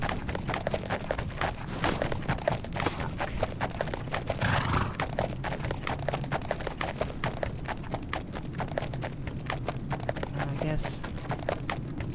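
Horse hooves gallop in the video game The Legend of Khiimori, a fast continuous clip-clop with an occasional whinny, under a voice talking throughout.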